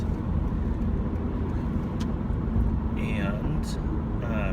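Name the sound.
car driving on road, heard from inside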